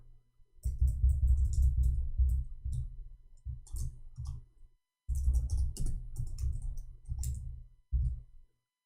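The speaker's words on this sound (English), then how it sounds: "I'm going to type it for you." A computer keyboard is typed on up close in two long runs of rapid, busy key clicks separated by a short pause, fairly loud and with no talking.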